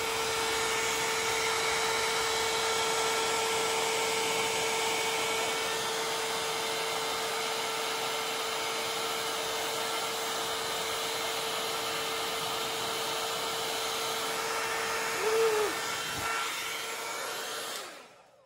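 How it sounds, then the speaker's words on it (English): A paint blower on its cool setting runs steadily over an acrylic pour, a constant whirring airflow held close and loud for about seventeen seconds before it tapers off, with no voices. "My blower on cool."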